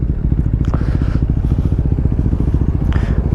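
A Yamaha R15 V3 BS6 motorcycle fitted with an Akrapovic exhaust idles up close, its loud, rapid, even exhaust pulses thumping steadily throughout, with faint voices in the background.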